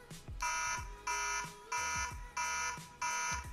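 A loud electronic alarm tone from a Neo CoolCam siren pulses on and off in five evenly spaced bursts, harsh and buzzing, with no voices.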